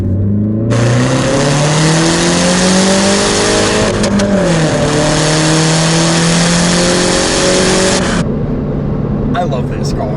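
A 2014 Mini Cooper S accelerating hard, its engine note climbing steadily through a gear with a brief dip at a shift, loud and close from inside the car with wind noise.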